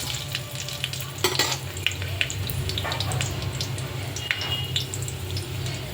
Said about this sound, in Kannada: ಸ್ವಲ್ಪ ಫ್ರೈ ಮಾಡೋಣ